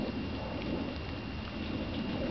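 Steady rain falls with a low rumble of thunder beneath it, a dense continuous wash of drops at a moderate level with no voices.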